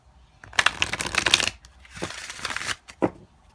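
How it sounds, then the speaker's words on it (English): Tarot cards are shuffled close up in two quick riffling bursts, followed by a short soft snap. "Alright, so now I'm shuffling these cards."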